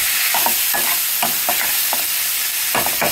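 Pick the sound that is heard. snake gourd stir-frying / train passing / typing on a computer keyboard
snake gourd stir-frying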